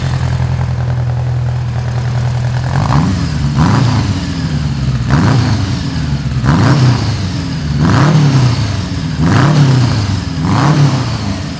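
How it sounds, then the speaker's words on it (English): A 1979 Honda GL1000 Goldwing motorcycle idles steadily, then its engine is revved about seven times in a regular rhythm, each blip of exhaust rising and falling, loud and close with no talking. "This is an exhaust note on this thing."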